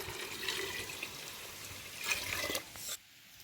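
Water is poured over soaked wheat in a vessel, a soft splashing trickle of a few seconds that stops abruptly.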